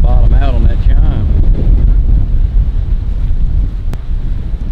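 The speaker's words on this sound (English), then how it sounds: "That wind is not helping" Steady low rumbling wind buffeting the microphone at a busy boat ramp, with a brief voice-like burst near the start and a sharp tone blip later.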